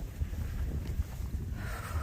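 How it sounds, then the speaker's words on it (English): Cold wind gusting and buffeting a microphone outdoors on the Appalachian Trail, a low rumbling roar with occasional thumps, steady and moderately loud. "It's cold and windy out today."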